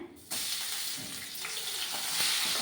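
Ginger garlic paste hits hot oil in a pan for a Kerala chicken roast, bursting into a loud, steady sizzle after a brief quieter moment, with light stirring scrapes.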